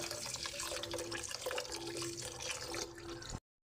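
Leftover rice water being poured out into a sink makes a steady, close splashing trickle with a faint tonal ring, then stops abruptly.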